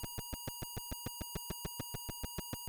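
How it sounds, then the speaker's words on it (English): An Atari disk drive beeps while loading a game, a steady run of about eighteen short, evenly spaced electronic tones, quiet and alone. "because when discs load on an Atari, it beeps like this"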